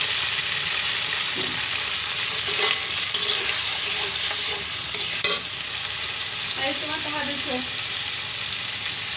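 Raw onions sizzling in hot oil in a pan for a fish-head curry with Malabar spinach, a continuous frying hiss with occasional stirring scrapes and clinks, no talk.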